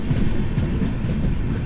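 The Kanchan Kanya Express on the Kolkata–Siliguri run passes Bagdogra, giving a steady low rumble of rolling wheels with faint rhythmic clatter, close and continuous, with no voices.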